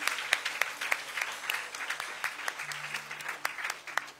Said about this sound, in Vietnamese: Chúng ta vỗ tay thật lớn để chúc mừng cô Kim Hoa được không ạ?